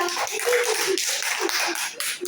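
Children in a school classroom clap their hands together in a dense, steady burst of overlapping claps lasting a couple of seconds, fairly loud and close, with no talking over it.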